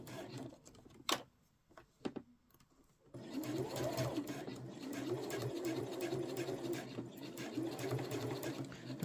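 Sewing machine stitching a zipper pouch, with a few isolated taps and short bursts, then a steady, continuous whir of running stitches close by, with no talk.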